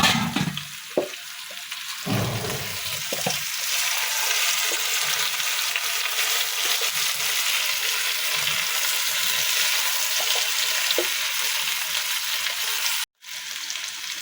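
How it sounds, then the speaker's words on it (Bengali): Tilapia fish curry with papaya and potato is stirred in a hot pan, giving a constant close sizzle with a few utensil scrapes and clinks early on before the sound cuts off abruptly near the end. "এখন আমি ঢাকনা তুলে কিছুক্ষণ নেড়ে চেড়ে দিব"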